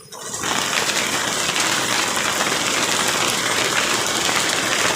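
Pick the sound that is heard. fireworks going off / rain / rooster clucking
rain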